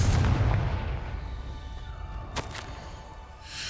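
Confringo fire spell explosion in the video game Hogwarts Legacy, a loud, deep blast that rumbles and fades over a few seconds, with a sharp crack partway through.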